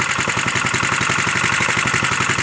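A gasoline engine running on a carburetor, a Montgomery motor, idles steadily up close, with a fast even firing pulse that stays loud and constant throughout with no voices.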